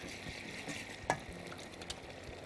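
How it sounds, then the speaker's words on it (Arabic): A butter sauce with broth is stirred in a pan, giving a steady soft sizzle and scraping with one brief louder clink, with no talking. "بالشوربه وانا بقلب اهو تقليبا للصوص كده"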